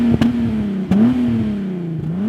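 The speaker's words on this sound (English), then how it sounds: "this is my all-wheel drive swapped Corrado VR6 Turbo" An all-wheel-drive swapped VW Corrado with a turbocharged VR6 engine revs nearby, a steady engine drone with a couple of sharp throttle blips and slight pitch rises, heard alone without talk.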